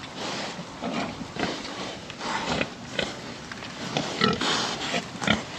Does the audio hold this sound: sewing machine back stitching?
no